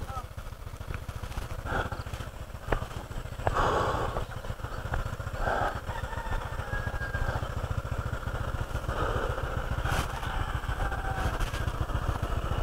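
A Honda ADV scooter motorcycle engine laboring uphill on a mountain road toward a campsite in Tanay, Rizal, with a steady low drone, wind buffeting and a rider talking over it.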